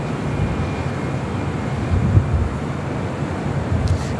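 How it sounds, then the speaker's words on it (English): A Kalitta Air Boeing 747 taxis at LAX toward the south-side cargo area. Its engines make a steady, distant jet roar mixed with wind noise on the microphone, and no voices are heard. "Like Kaleta Air 747 pulling into Singapore Airlines cargo here on the south side"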